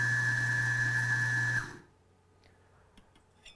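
A Eureka Atom coffee grinder whirs steadily as it grinds into a dosing cup, then winds down and stops, leaving near silence with a few faint clicks.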